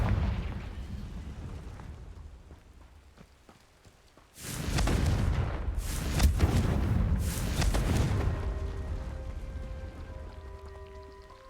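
Magical Confringo fire-spell blasts in Hogwarts Legacy, three loud bursting explosions in quick succession after a quiet lead-in, fading into a soft tonal hum.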